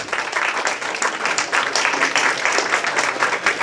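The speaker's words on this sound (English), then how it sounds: "Let's give a round of applause for this incredible panel." An audience at a Singapore Venture Day panel claps for the panelists, a lively, fluttering applause with rising and falling bursts and no pause.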